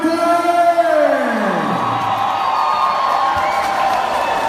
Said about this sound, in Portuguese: Quem torce pra Lume da Fogueira, solta o grito aí!